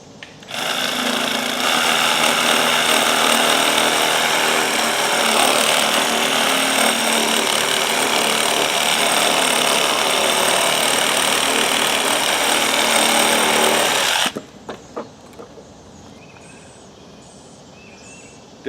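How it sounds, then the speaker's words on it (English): A Sawzall reciprocating saw cuts firewood with a loud, steady buzzing drone that holds for about fourteen seconds, then cuts off, leaving faint clatter and quiet. "Demonstrating how to use a Sawzall to make firewood with."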